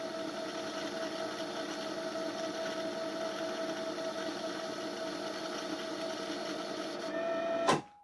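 A sewing machine motor hums steadily while winding thread onto a bobbin, a faint, even mechanical whir that ends with a brief clunk as the winder stops.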